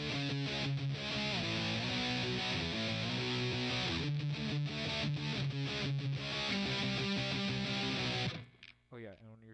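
Distorted electric guitar riff, mixing palm-muted chugs with ringing notes and a slide, loud and driving for about eight seconds before stopping abruptly, with a few faint trailing noises.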